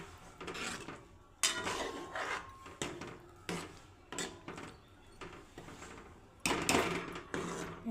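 A spoon scrapes and stirs roasted peanut powder into a thick drumstick curry in a pan, with repeated rasping strokes of uneven length, close and moderately loud, with no talking.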